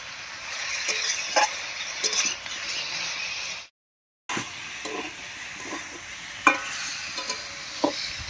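A spice paste frying with dried fish (shutki) in a pan gives a steady, moderate sizzle, with soft scraping stir strokes recurring throughout and a brief silent break midway.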